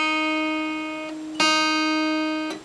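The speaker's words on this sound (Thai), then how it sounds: "เขี่ยสาย1ลงไปให้เกิดเสียงนี้นะครับ" The first string of an acoustic guitar is plucked downward with the index finger, giving clear ringing notes that sustain, with a fresh pluck a little after a second and another near the end, played alone.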